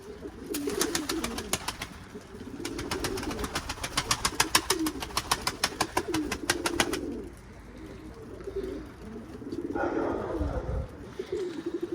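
Pigeons cooing in a coop, several soft repeated coos over a rapid flutter of wing flaps for the first half, then quieter cooing and shuffling nearby.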